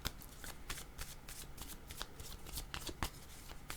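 Tarot cards being shuffled close up, a steady stream of rapid papery riffles and flicks with a few sharper snaps, no voices.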